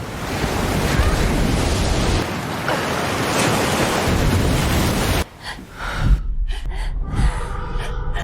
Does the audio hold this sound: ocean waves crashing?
yes